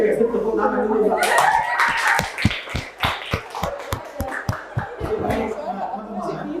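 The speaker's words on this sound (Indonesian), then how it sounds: "Oke, tepuk tangan dulu Pak." Hands clapping in a classroom discussion session on scripts and video editing, sharp irregular claps from a small group forming a ragged round of applause, with a few chuckles and voices talking underneath.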